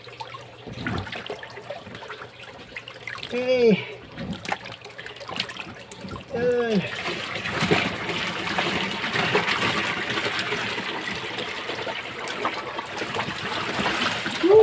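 Water poured into a catfish pond being recovered from red water, heard as intermittent splashing and gurgling pours that build into a steady rushing flow, with brief speech at points.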